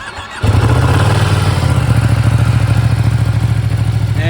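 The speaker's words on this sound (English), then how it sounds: "The exhaust doesn't sound bad. I'll do a sound check." A Ducati Panigale V2 motorcycle engine cranks and fires up loudly after a quiet moment, then settles into a close, throbbing idle with a lumpy, pulsing exhaust rhythm.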